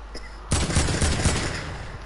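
Gunfire in a shooter video game during a sniper match, a sudden loud burst of rapid, overlapping shots that starts abruptly and carries on as a dense, steady volley.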